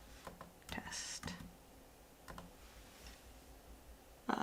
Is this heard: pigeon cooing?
no